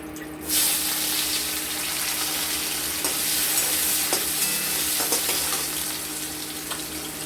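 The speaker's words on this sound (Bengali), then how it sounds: "এবার ওই তেলে আমরা দিয়ে দিব কেটে রাখা আলু" Cut potatoes hit hot oil and frying begins with a loud burst of sizzling, settling into a steady crackling hiss with occasional pops and stirring noises.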